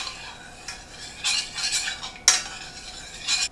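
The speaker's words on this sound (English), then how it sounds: "And I'm going to stir this together." A utensil stirs coconut milk with tapioca starch and salt for a sweet rice cowpea dessert topping, giving several light scraping and clinking strokes against the pot over a faint background.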